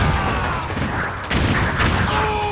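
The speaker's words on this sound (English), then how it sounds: "Throw grenade." A grenade explodes amid gunfire in the online shooter game Metal Gear Online, a dense, loud wash of blast rumble and rattling shots running throughout without a break.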